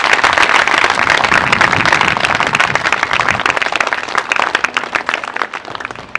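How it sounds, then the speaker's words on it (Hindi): A church congregation claps loudly and steadily during a Hindi sermon, a dense, sustained wash of many hands that thins slightly toward the end. "सब ने आंखों को खोलेंगे और जोर से ताली बजाएं यीशु मसीह के लिए"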